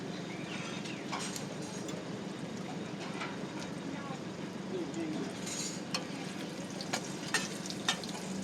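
Roti crisping in hot oil in a pan at a Thai street stall, a steady close sizzle and crackle running throughout, with occasional scraping clicks and people talking over it.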